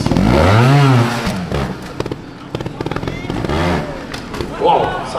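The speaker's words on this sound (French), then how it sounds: "Autour de Agnol Gilabert, on va baisser la musique pour écouter le bruit du moteur." A trial motorcycle at an international indoor trial event in Narbonne revs in sharp bursts and short popping blips, close and loud, with a voice speaking over it at times.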